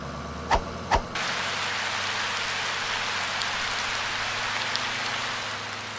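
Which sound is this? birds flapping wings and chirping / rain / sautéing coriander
rain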